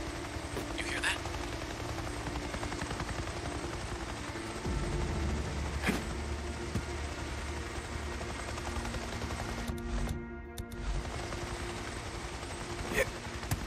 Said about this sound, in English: Your helicopter. Load up.